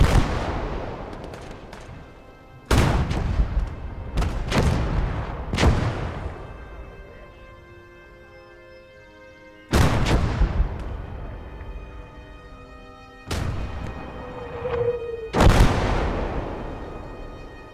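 Vespe self-propelled artillery guns firing in the World War II game Gates of Hell: about half a dozen booming shots, some in quick pairs, each followed by a long rolling echo that fades before the next, loud and close.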